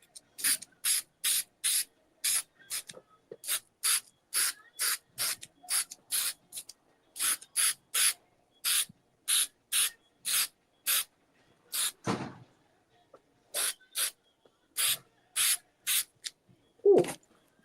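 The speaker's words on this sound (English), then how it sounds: "Let's give this a spray so it can at least be drying while we're waiting." Aerosol can sprayed in many short, evenly paced hissing bursts, fairly close and alone, with a few brief pauses and a faint rustle near the end.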